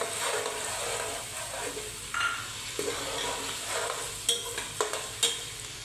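Onions and green and black cardamom sizzle steadily in a pan for a mutton korma, with a spoon scraping and stirring through them and a few sharper clinks of metal near the end.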